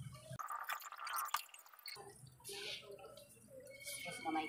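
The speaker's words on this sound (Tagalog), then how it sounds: "paubos ko lang muna sa pag-drain yung tubig" Water draining out of a basin or pipe during a repair, a gurgling, sloshing flow with splashes, close by, while someone talks intermittently.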